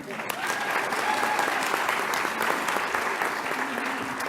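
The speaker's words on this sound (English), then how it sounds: "yes, you can clap." Conference audience at a 2017 interior design association annual meeting breaks into dense, sustained applause, a crowd of many hands clapping steadily and fairly evenly throughout without a break.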